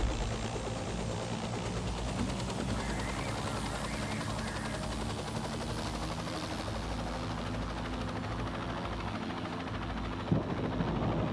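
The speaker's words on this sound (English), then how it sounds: "it makes us pick a certain type of helicopter" A helicopter in the Dustoff Heli Rescue 2 video game hums continuously, a steady dense rotor and engine drone with low throbbing, constant and loud throughout with no talk.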